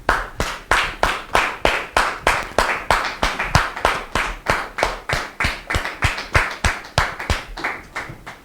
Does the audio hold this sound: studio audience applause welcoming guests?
yes